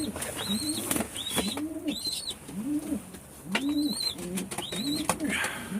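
Pigeons coo repeatedly nearby in a coop in soft, rolling phrases, overlapping one another, with occasional higher chirps and wing rustles in the background.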